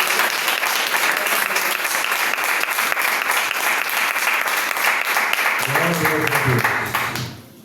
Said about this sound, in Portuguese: Aplauda mais uma vez a palavra de Deus